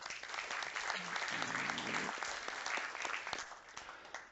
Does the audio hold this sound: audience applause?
yes